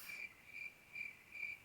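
Crickets chirp in steady, evenly spaced pulses, faint and continuous over a quiet background hiss, with no other sounds.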